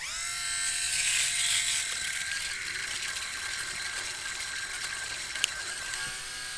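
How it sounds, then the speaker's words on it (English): A SweetLF waterproof electric shaver, freshly oiled, runs with a steady high-pitched buzzing whir and a rasping, ratchet-like cutting texture as it shaves, close and continuous throughout with no talking. "I'm going to try shaving right now."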